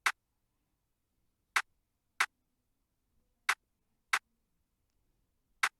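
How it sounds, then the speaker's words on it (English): Uncompressed snare drum sample, six sharp, punchy single hits spaced unevenly across a few seconds, each decaying quickly into silence, played alone with nothing underneath. "So here's what the snare sounds like."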